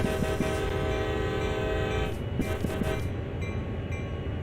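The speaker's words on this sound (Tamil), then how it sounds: "ஒரு ஹார்ன் எடுத்துக்கிறோம்." A train locomotive in motion, with a steady loud rumble and sustained horn-like tones running through the start, then shifting and thinning toward the end, heard alone without talk.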